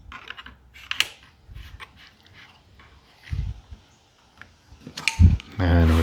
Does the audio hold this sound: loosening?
yes